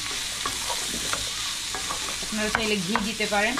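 Oil goes into a hot pan while making chicken noodles, with a steady sizzle and frying hiss and some stirring, and someone speaks briefly near the end.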